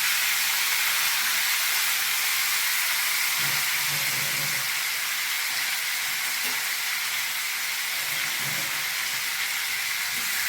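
Steady, hissing sizzle of tomatoes sautéing in hot oil, loud and continuous throughout with faint clatter in the background.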